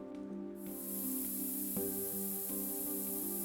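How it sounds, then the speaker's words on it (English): Varnish sprays from a can onto a toy fence in Toy Tinker Simulator, a steady broadband hiss starting about half a second in and holding loud and even to the end over soft tonal background music. "Which varnish works the exact same way as spray paint."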